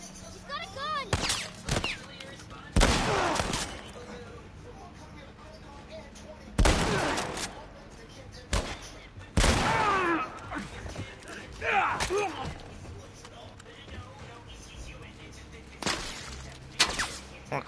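Sharp, loud gunshots crack in The Last of Us, spaced irregularly with quieter gaps between them and occasional voices in the background.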